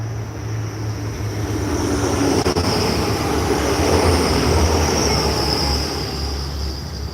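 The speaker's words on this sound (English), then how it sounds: "I am fairly confident this is a passenger train." A passenger train runs straight through Peterborough station without stopping, a steady loud rushing roar of wheels on rail with a high metallic squeal riding above it, swelling and holding for several seconds.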